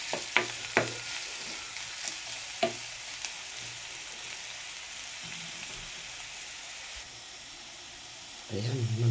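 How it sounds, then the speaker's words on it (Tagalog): Garlic and onion sautéing in a pan, stirred until browning, a soft steady sizzle with a few sharp utensil clanks early on, then a louder burst of frying near the end. "Ito, lagyan natin bawang at saka sibuyas. Halo-halowin na natin hanggat mag-brown."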